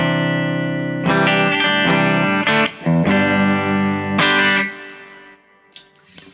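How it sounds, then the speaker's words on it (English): An electric guitar played through the humbucker bridge pickup and a distortion pedal rings out in sustained, saturated chords with a few bright changes. The last chord fades into a quieter tail, loud and up close, with no voices. "I'm going to show the humbucker sound with the bridge pickup."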